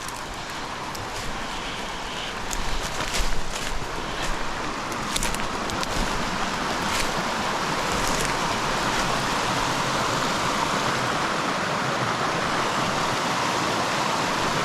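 A small stream runs into a river at a fall campsite, giving a steady, broad rushing of flowing water close by, with a few brief louder splashes or knocks early on and no talking.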